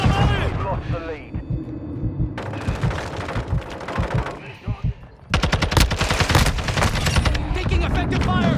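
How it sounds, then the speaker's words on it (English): Automatic gunfire in the video game Modern Warfare 2 multiplayer, sustained rapid bursts of shots, loud and close, broken by short gaps, with game voices and a player talking beneath. "Taking effective fire!"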